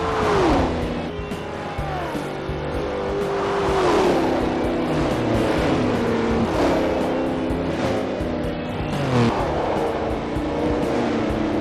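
Supercars including a Bugatti and a Hennessy race in the Forza video game, with loud, continuous engine roar, rising and falling revs through gear changes and tire squeal, with no talk.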